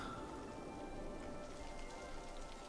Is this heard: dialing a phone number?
no